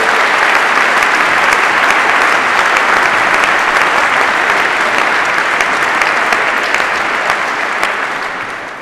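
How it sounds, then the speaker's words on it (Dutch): Steady, loud applause fills a hall as young people are invited onto the stage at a Dutch event, dense clapping sustained throughout before tapering slightly at the end. "Hartelijk applaus."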